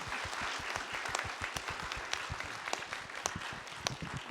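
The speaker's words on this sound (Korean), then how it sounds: "우리 다 같이 서로 박수 한번 칠까요?" Audience at a talk and praise concert clapping for one another, a dense, steady patter of many hands that fills the space evenly for several seconds without pause.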